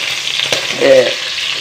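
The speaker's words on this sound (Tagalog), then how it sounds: "Igisa ko na yung bawang." Garlic sautés in hot oil in a pan, a bright steady sizzle with a brief stirring scrape and a short low tonal clink, close and loud, no speech.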